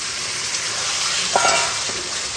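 Yogurt-marinated chicken and spices hit a hot pan, giving a loud, continuous hiss of frying with a couple of soft utensil knocks in the middle.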